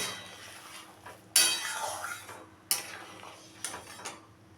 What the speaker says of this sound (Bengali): দিয়ে দিলাম আদা বাটা, দিয়ে একটু মিশিয়ে নেব